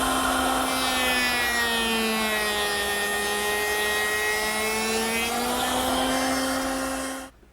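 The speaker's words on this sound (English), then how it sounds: "This bit will do the cope in the ends of the long pieces" A router table spinning a cope bit through the ends of wooden door pieces gives a loud, steady, close whine with a slight dip in pitch under load, then spins down and cuts off abruptly.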